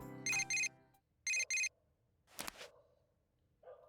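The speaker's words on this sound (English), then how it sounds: "Received a text message." Persona 4 Golden text message alert: two pairs of bright electronic chime tones, each pair a quick double beep, followed by a softer swoosh and a brief low blip, clean with no talking.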